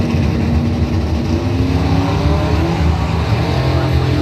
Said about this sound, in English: Finish line, it's going to be Brad Harris taking it 567 on the 63, 9 foul stripe